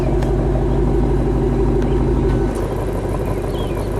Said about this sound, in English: Just change the modes while I'm listening to the exhaust note.